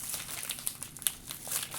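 A plastic bag being opened while unboxing an Asus Zen AIO Pro all-in-one PC, close crinkling and rustling with small crackles over a couple of seconds.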